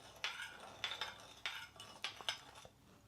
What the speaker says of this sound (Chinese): 用勺子搅拌